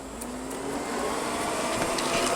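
An Ecovacs Deebot M81Pro robot vacuum sucking up pellets indoors, a steady close whirring motor drone with faint rattles and ticks of debris being pulled in.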